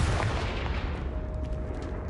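A Confringo fire spell blast in Hogwarts Legacy bursts with a loud, explosive boom that trails off into a crackling, rumbling tail.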